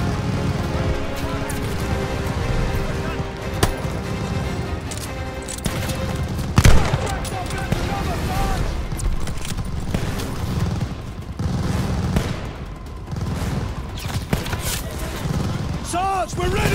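Machine gun fire rattles through a Call of Duty: Vanguard World War II battle in the Operation Tonga mission, with dense, continuous bursts, booms and thuds under shouted voices.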